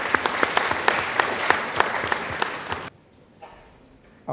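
Delegates clapping at a cooperative society's annual delegates meeting; sharp, rhythmic claps in a steady beat for about three seconds, then stopping abruptly into near quiet.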